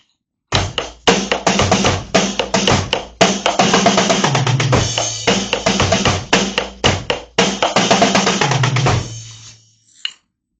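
A drum kit plays a steady double-snare straight beat with crisp snare hits and cymbals, broken by quick fills, ending with a final crash.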